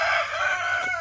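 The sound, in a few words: chickens clucking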